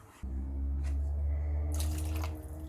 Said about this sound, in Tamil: அதனால் நீங்கள் இன்னி கொஞ்சம் தண்ணி ஆட் பண்ணிக்கோங்க